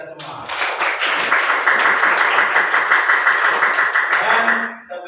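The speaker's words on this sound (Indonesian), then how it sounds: "Tepuk tangan untuk kita semua." A group of people applauds together in a steady, dense burst of clapping that lasts several seconds before fading out.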